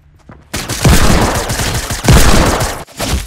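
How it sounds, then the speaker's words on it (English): Loud, dense bursts of rapid gunfire in the Fortnite Battle Royale video game, two sustained volleys with a brief gap between them and a short pause near the end. "I just shot you!"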